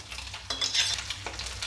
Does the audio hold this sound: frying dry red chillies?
yes